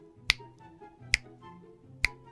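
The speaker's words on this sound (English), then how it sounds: "Snapping my fingers just inches from her face." Three sharp finger snaps, close and loud, spaced under a second apart, a hand snapping inches from a woman's face during a confrontation, with faint low background hum between them.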